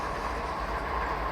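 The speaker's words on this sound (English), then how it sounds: "Okay, we're gonna put our train in reverse" A video game train moves in reverse with a brief steady rolling rumble and low hum, continuous and even, with no speech.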